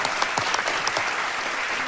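Audience applause at a televised show, a brief, steady wash of clapping at moderate level with no voices over it.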